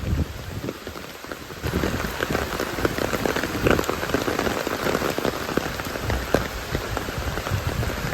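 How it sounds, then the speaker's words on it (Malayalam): Heavy rain pours down steadily, a dense close hiss of drops drumming on surfaces that never lets up. "നല്ല അസല് മഴ കേട്ടോ കാറ്റ് പിടിച്ചാൽ കുട പോവും"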